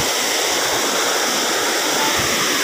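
A steady rushing stream flows continuously nearby, a dense broadband hiss with no pauses or voices.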